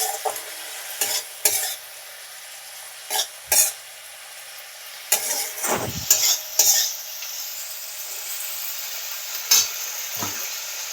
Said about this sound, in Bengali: লবণ আর হলুদ দিয়ে একটু নাড়াচাড়া করতে হবে